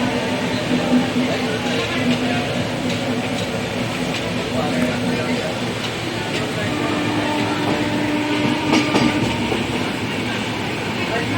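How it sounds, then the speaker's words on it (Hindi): The Taj Express runs along the rails with a steady rumble and a rhythmic clickety-clack of wheels over track joints. The sound is close and continuous, with faint squeals and metallic rattles of the carriages. "तो ये है हमारी ताज एक्सप्रेस।"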